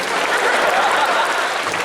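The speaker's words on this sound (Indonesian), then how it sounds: "Tepuk tangan buat istri saya lagi" A crowd at a stand-up comedy show in Aceh applauds for the comedian's wife, giving a loud, continuous, full-bodied roar of clapping that stays even from start to finish.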